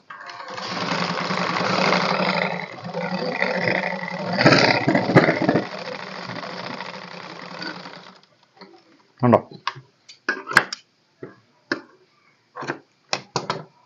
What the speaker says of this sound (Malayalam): അതിനുശേഷം നമ്മൾ ആദ്യം മറ്റേ ബാൻഡ് അടിച്ചതുപോലെ തന്നെ അതിൻ്റെ പുറമെ പതിച്ചടിക്കുന്നു